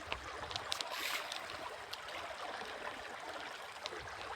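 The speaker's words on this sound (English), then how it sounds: "This water is running, it's not stagnant." A river on a farm runs steadily, a continuous hiss of flowing water with a few splashes and knocks, heard up close without any voices.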